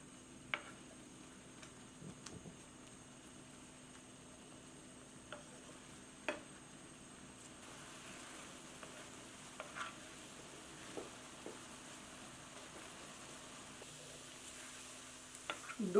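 Firm apple pieces cook in a pan over moderate heat, giving a soft, steady sizzle with faint scattered ticks and occasional stirring clinks, quiet and close, with no voices.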